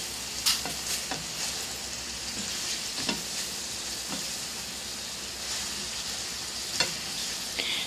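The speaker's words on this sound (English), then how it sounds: "Be sure to stir fry to distribute evenly the sauce." Pancit bihon rice noodles stir-fry in sauce with a steady sizzling hiss throughout, broken by occasional scrapes and clinks of the spatula against the pan.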